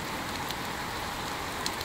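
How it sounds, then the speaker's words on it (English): Rain falls in the survival video game Icarus, a steady even hiss of downpour on surfaces continuing evenly throughout without speech. "The fact it's raining is good because it means filling this up"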